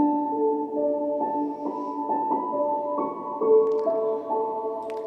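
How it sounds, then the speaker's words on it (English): Piano melody played in steady single notes with a clear, even rhythm, bright and close, with no talking over it. "This is the sound of piano."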